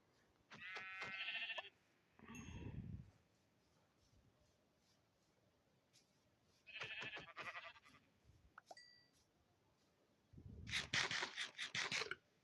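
Sheep in the video game Craftman bleat in several separate bursts with pauses between them, alongside occasional scraping noises, fairly close and without talk.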